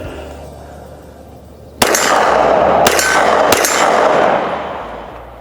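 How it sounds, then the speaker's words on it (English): Three sharp pistol shots ring out in an uneven rhythm at an outdoor range, aimed at a metal target 25 yards out, with a loud report followed by a lingering wash of echo. "we're gonna shoot at that metal target"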